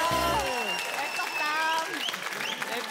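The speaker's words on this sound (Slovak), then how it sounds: "Počujete, už ste tlieskali Dominikovi Hrbatému" A Slovak TV quiz-show studio audience claps after a question about tennis's Davis Cup, a steady wash of applause lasting several seconds under overlapping speech.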